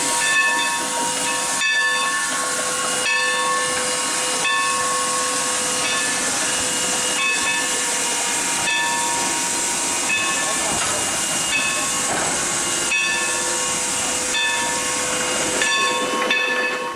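Sierra Railroad's Shay steam locomotive number 2 hisses loudly and continuously while switching boxcars on a mill siding, with a steady, regular beat of exhaust chuffs running under the roar of steam.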